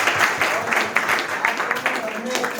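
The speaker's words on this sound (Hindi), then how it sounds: "एक बार सबके तीनों लोगों की ताली बजा दीजिए।" Audience claps for three students in a classroom or hall, a fairly loud, continuous patter of many hands with voices mixed in.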